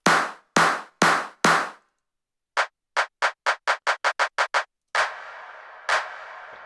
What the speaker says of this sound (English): Got the really wet clapping on the super.